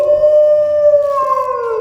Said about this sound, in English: It lets out a howl